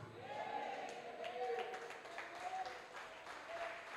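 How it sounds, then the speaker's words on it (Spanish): A church congregation applauding during a Spanish-language sermon, a dense moderate wash of clapping over several seconds, with a voice calling out faintly through it. "¿Cuántos aplauden bien fuerte al Espíritu de Dios?"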